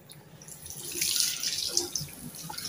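A sink tap in a modern station toilet at Brambanan runs steadily, water splashing into the basin with a bright hiss that swells louder midway and stays continuous, near and alone.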